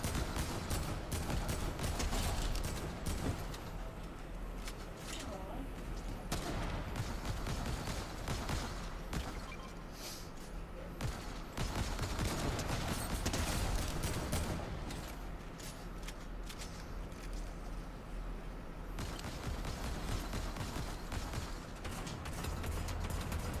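Rapid bursts of gunfire from Fortnite Chapter 4 Season 3 gameplay, dense and continuous with clustered volleys and mechanical clatter throughout, loud and close with no talking over it.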